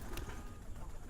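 Pet pigeons cooing faintly in a loft during afternoon feeding, soft low murmurs blending into a steady background hum, with a brief chirp near the start.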